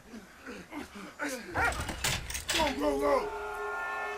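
A dog in the war game Valiant Hearts gives a series of short barks and whimpering yips, close and fairly loud, mixed with game sounds and a voice talking over parts of it.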